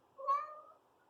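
A cat lets out a single short, clear meow, close and fairly loud, rising then fading within about half a second against near silence.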